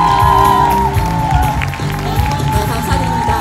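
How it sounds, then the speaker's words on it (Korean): Loud, dense applause and cheering from a seminar audience at a hotel event continue for a few seconds, with background music and voices mixed in. "정미진 사장님께 큰 박수 부탁드리겠습니다."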